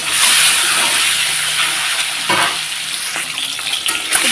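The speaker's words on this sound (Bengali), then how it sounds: "এখন ডিমগুলোকে ভেজে নেব।" Eggs frying in hot oil in a preheated wok over a gas flame, giving a steady close sizzle and hiss with a few spits and crackles, no voices.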